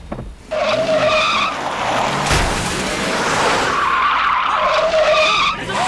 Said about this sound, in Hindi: गाड़ी पीछे ले।